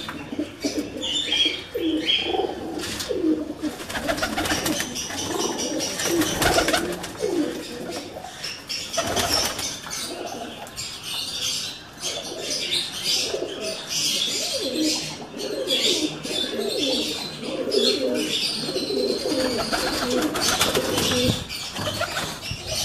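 Many pigeons coo in low, throaty murmurs close by, with wings flapping now and then and a few chirps mixed into the flock's steady noise.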